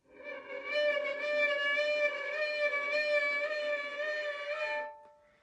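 A single sustained violin note with steady bright harmonics, played alone for about four seconds and practised with vibrato in an even eighth-note rhythm before fading out.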